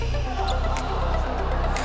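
A basketball bounces on a glossy wooden parquet court, its dull thumps recurring at irregular intervals over a loud, steady low background hum.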